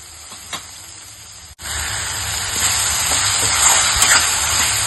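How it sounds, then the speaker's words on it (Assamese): Raw banana and potato pieces fry in a pan, a brief clatter giving way to a steady, close, loud sizzle that builds and holds to the end with no talking. "ভালদৰে কাচকল আৰু আলুখিনি মিলি যোৱাকৈ ভাজি ল'ব লাগিব।"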